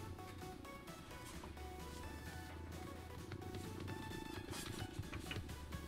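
A cat purring softly and steadily, close by but faint, with a low continuous rumble running under some background music.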